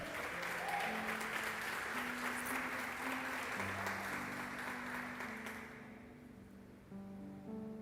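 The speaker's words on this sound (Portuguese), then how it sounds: "Você pode aplaudir a Ele nessa noite?" A church congregation applauds together at an evening service, a dense, sustained wash of clapping that fades out toward the end while soft keyboard music plays underneath.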